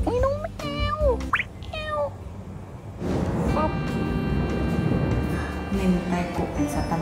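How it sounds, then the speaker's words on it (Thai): A cat meows several times in quick succession, close and clear, inside a house that serves as a restaurant in Chiang Mai. Steady indoor background noise continues and grows fuller after the meows. "อุ้ยน้องแมว"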